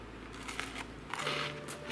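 A bite into a homemade peanut butter cookie shaped like a fidget spinner, two or three close crisp crunches and crackles, short and alone with no talking.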